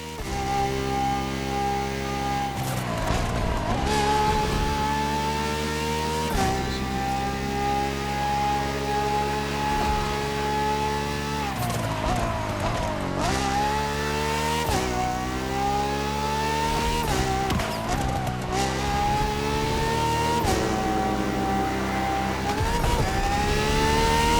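Ferrari FXX K supercar in a racing video game, its engine revving hard and repeatedly climbing in pitch through gear shifts, dropping back at each change, loud, close and continuous throughout.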